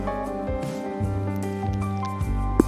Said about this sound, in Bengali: এবার ভেজে রাখা শুকনো বোঁদেগুলোকে আমি চিনির শিরার মধ্যে দিয়ে দিচ্ছি